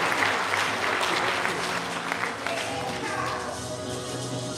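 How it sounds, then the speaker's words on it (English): Audience applause at a police department promotion ceremony in Guam, a sustained round of clapping from a large crowd filling the room, steady and fairly loud from start to finish. "let's give her a round of applause"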